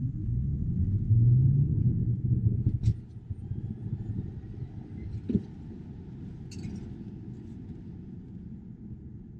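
A Tesla Model Y Standard Range on a 0-60 mph run, a heavy low rumble of wind and road noise that swells early then eases, with a few faint clinks in the cabin.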